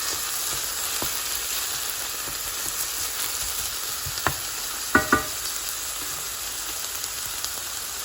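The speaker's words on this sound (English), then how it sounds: "So you want to stir them and cook them evenly." Finely diced onions crackle and sizzle steadily in coconut oil, close up, with a couple of sharp spoon knocks against the pan midway and soft stirring scrapes.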